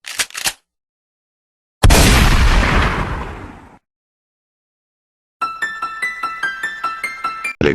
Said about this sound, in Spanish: Solo se escuchó el grito de una mujer, y el disparo de una escopeta.